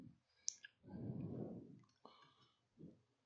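A few scattered computer keyboard key presses entering a save command in a Linux terminal, soft isolated clicks and taps spaced irregularly with short pauses, close and quiet.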